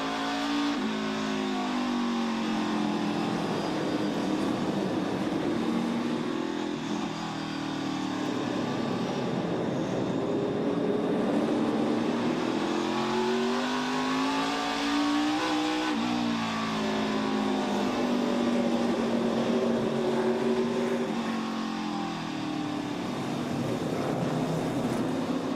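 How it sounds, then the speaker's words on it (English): A NASCAR Xfinity race car at the Charlotte Roval, driven by AJ Allmendinger, roars loud and close from onboard, its engine rising and falling steadily with throttle through the corners, continuous and without talk. "Just ride along and listen to him, how easy he is on the throttle."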